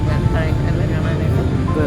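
A loud, steady low engine roar fills the cabin as an airplane comes in to land, with a voice talking over it.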